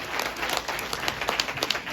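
Applause from the audience at a fishing club's fall bash event, a steady wash of clapping lasting a couple of seconds at moderate loudness.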